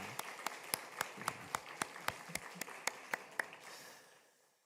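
About a dozen sharp claps ring out in a loose, irregular rhythm during a church service, fairly close, then fade into a faint hiss of room noise.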